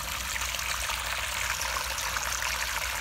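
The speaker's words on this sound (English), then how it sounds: "oh, here comes some water. Ah, toilet!" A toilet bowl fills with water in a steady, loud rushing flow, broadband and continuous with a gurgling undertone, close by and without any voice over it.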